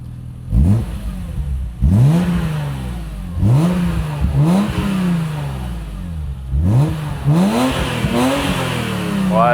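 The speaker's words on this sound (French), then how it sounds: "Tu vas nous mettre quelques coups de gaz, Pistache?" Car engine revved in repeated blips of the throttle, five or six loud sweeping rises and falls in quick succession, close and clear, with the engine idling between bursts.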